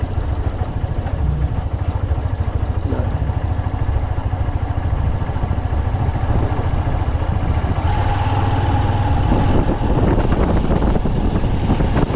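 A motorcycle rides to Baranti lake in Purulia with a continuous engine drone, heavy wind buffeting the microphone, and the rumble holding steady and close the whole way.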